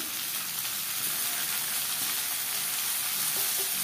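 Tomato and reddish-browned onion fry in a pan, a steady, dense sizzle that holds evenly throughout, with faint stirring beneath and no voices.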